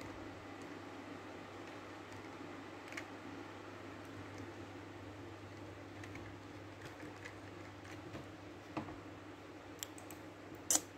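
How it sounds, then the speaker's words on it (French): Someone types on a computer keyboard, with soft, faint, irregular key clicks scattered over a steady low background hum and fan noise, one sharper tap near the end. "désolée si vous entendez mon clavier"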